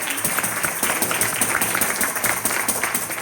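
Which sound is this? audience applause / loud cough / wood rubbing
audience applause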